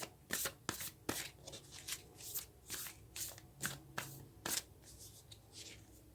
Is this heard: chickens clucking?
no